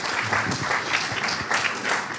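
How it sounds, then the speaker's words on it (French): Applause from an audience at a regional transport awards ceremony, a dense, steady clatter of many hands clapping throughout, fairly close and loud with no voices. "On peut l'applaudir."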